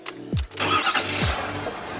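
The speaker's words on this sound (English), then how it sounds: "now go ahead and fire up the truck." A 2017 Ford 6.7 Powerstroke diesel truck engine cranking and firing up after a fuel filter change, with two starter whines followed by a loud catch into a rough, steady idle close by.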